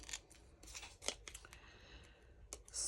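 Scissors snip out paper butterflies for an autumn crafting project, a quick run of close, crisp cuts with small pauses between them and no talking.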